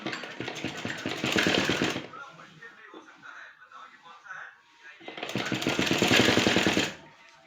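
A home sewing machine stitches kurti fabric in two loud bursts of rapid mechanical chatter, each about two seconds long, with a quieter gap of fabric handling and faint talk between them.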